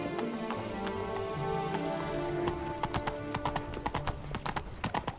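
Hooves of Roach, the horse in the Witcher 3 video game, clip-clop at a gallop, a steady quick rhythm that grows crisper and more distinct toward the end, with a soft rain-like hiss underneath.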